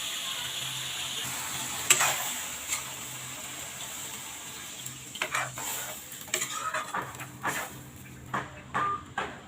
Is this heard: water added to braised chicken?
yes